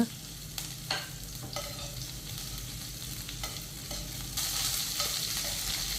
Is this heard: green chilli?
yes